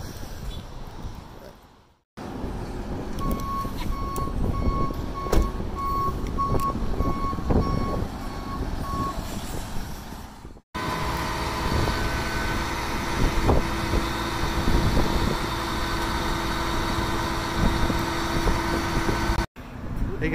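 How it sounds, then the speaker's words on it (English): Tow truck reversing, its backup beeper sounding a steady run of evenly spaced beeps over a rumbling idling engine, with the scene cutting between takes and the engine noise continuing. "Tow truck driver's here."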